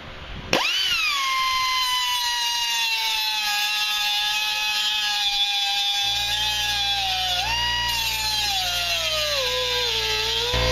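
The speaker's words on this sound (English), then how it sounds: "we're just going to zip this and this off carefully with a die grinder" A die grinder cuts a snowmobile board on an Assault Switchback, a steady high-pitched whine that spins up sharply, then wavers and drops in pitch as it bites into the material, loud and close throughout.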